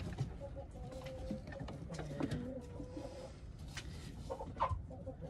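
Hens and a rooster clucking softly in a farmyard coop, scattered low clucks and murmurs at moderate distance over a faint steady background.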